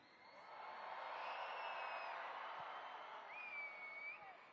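An arena crowd at a Monster Jam event in Portland, Oregon, roars in a sustained, broad wash of cheering, with a few shrill whistles rising above the noise.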